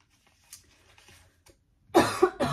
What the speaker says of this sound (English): I'm gonna have a cough attack